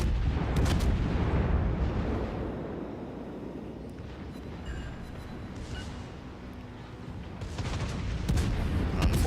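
A cruiser's main battery fires a broadside salvo in the naval combat game World of Warships, a deep rolling boom that swells again near the end over a steady low rumble, loud and heavy, with no talking.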